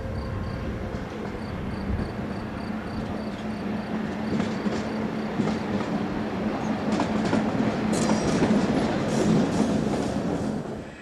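A train hauled by a dual-voltage class 1116 electric locomotive rolls past close by, its rumbling wheels and rail clatter building steadily louder, with faint squeals on the track.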